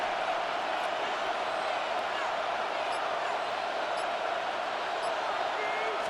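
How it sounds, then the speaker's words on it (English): Stadium crowd in Madden NFL 26 keeps up a steady, loud roar ahead of a big third down, a broad wash of cheering that runs the whole time without a break. "the crowd getting into it as we come up on a big 3rd down"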